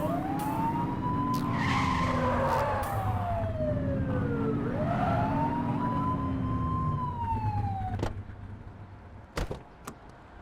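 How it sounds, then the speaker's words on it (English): A police car siren in a police video game rises and falls in two long wailing sweeps, then cuts off abruptly, leaving a few sharp clicks over a steady low engine hum. "Get behind them and blip the siren and make them pull over."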